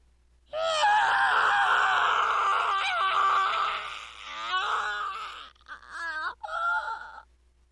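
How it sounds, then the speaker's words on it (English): A character screams in agony in the visual novel Steins;Gate, one long, loud, strained cry that wavers and breaks into shorter groaning bursts and gasps toward the end, heard alone with no talk. "Unable to bear it, I throw back my head and scream."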